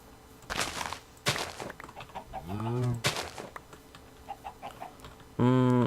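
Minecraft chicken clucks and squawks in short bursts, with a few soft taps and clicks between them, ending on a louder cluck.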